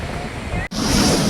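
The flooding Munneru river near Prakash Nagar in Khammam rushes in a loud, close, churning wash of water, broken by a brief cut before the torrent resumes even stronger.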